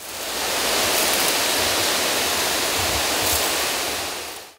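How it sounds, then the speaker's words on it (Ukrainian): An irrigation sprinkler console sprays water over tree seedlings in a forest nursery, a loud, steady hiss of falling spray that fills the whole clip without pause. "Аби сіянці швидко росли, використовують дощувальну консоль."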